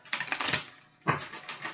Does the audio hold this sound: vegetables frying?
no